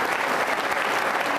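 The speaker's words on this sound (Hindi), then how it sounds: "एक बार फिर तालियां बजाइए अपने लिए जोरदार तरीके से" A crowd of NCC cadets at an Independence Day quiz show breaks into loud, dense applause, a continuous wash of clapping with no voices over it.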